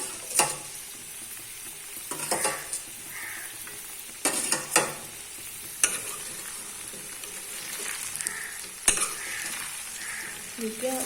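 Garlic fries in a pan for an amla pickle with a steady, close sizzle, broken by intermittent metallic clanks and scrapes of a spoon stirring against the pan.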